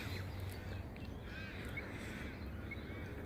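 A crow cawing outdoors, a few faint short calls sitting under a steady, heavy wash of background noise, with no one speaking.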